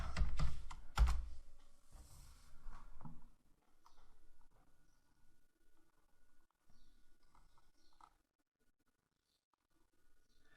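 A search term being typed on a computer keyboard, with a rapid flurry of close key clicks at first that thins into scattered, quieter taps, and no voices.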